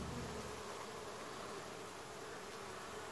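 Honeybees buzzing inside an aquarium-tank observation hive, a dense continuous drone of many insects at close range, steady and unbroken with no voices.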